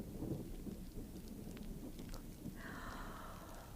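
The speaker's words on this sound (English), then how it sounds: "sounds like a storm blowing up outside, doesn't it, children?" Thunderstorm sound effect with steady heavy rain hissing throughout and low rumbling thunder, plus a brief higher whooshing gust near the end, continuous and fairly close.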